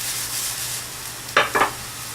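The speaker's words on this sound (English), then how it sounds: "So here it's sizzling now." Food sautés in a hot pan while omelets are being cooked, a soft background hiss with two brief, sharper sizzling bursts near the end as the pan is stirred or food is added, heard alone without talk.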